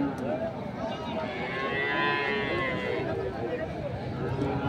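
Dairy cows of a local breed at the Khochabari village cattle market, mooing in the distance within a dense, continuous crowd murmur, with people talking nearby.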